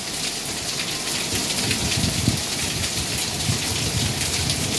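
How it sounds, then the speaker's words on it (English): Hail falls steadily in a storm, a dense, continuous patter and hiss of pellets striking surfaces all around, with no one speaking. "Got hail all the way over here."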